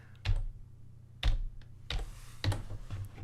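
Keys on a computer keyboard are tapped in a few separate clicks and short bursts, close and fairly crisp, with quiet gaps between strokes and no talking.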